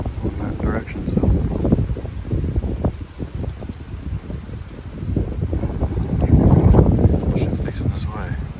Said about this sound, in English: I guess that wind's supposed to die down later on tonight.